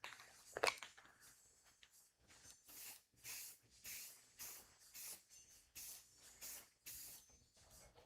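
Cheap flat gray primer hisses from a spray can in short bursts, about eight or nine quick sprays evenly spaced after a brief sharp knock, close and fairly quiet with no talking.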